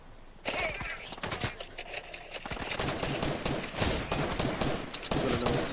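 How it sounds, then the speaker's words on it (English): Gunfire in a video game: dense bursts of rapid automatic shots and scattered single shots, loud and close, run almost continuously after a brief quiet start. "Somebody shooting at me."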